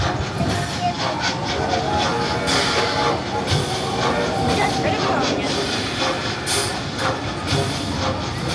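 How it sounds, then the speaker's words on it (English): The Seuss Trolley Train ride vehicle at Islands of Adventure rolls along its elevated track with steady rumbling, clattering wheels and a hiss, loud and continuous, while people talk in the background. "Ride vehicles will begin moving immediately."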